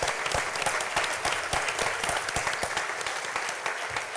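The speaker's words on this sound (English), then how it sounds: "give her a round of applause" An audience at a college coffeehouse business lecture applauds Katia, a student admitted to UC Berkeley, with steady, dense clapping that holds at an even level throughout.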